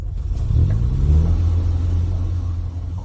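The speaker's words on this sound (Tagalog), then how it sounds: "Kotse. Ito ay kotse." A bulletproof car approaches with a deep engine rumble, loud and close, its low drone swelling slightly as it nears and holding steady to the end, with no voices over it.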